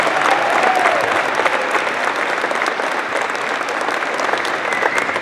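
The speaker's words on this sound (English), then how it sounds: "I saw the applause start." Audience at a Michigan small business awards dinner applauds, a full sustained burst of hand clapping at close range that holds steady for several seconds.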